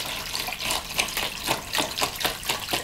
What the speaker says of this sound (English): I've got some warmer water here, which I'm going to put into my.